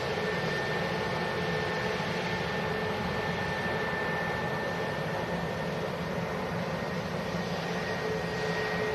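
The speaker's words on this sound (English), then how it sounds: "EasyJet A320 Neo, another new generation aircraft." An EasyJet Airbus A320neo jet airliner at Manchester airport, a steady broadband jet roar with a faint whine, distant and constant throughout, no talking.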